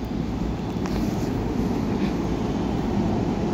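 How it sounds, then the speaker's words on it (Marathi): A Pune metro train stands at the station, a steady loud low rumble and rushing drone filling the whole stretch without pause or talk. "इथेच मेट्रो स्टेशन, मेट्रो आलेली आहे."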